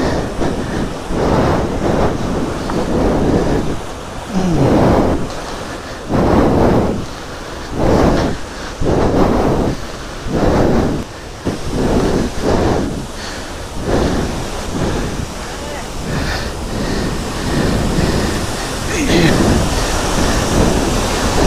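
Mookana Falls rushing in a loud, continuous roar of falling water, heard close and surging in waves, with voices speaking now and then over the torrent.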